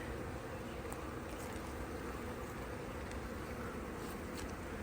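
Honeybees hum steadily around an opened hive during an inspection after a swarm prevention split, a dense close buzz with occasional louder passes of individual bees and no talking.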